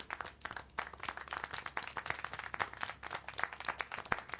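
Clapping applause in the Syberia: The World Before video game, a lively burst of many sharp claps close by and steady throughout, with no voices over it.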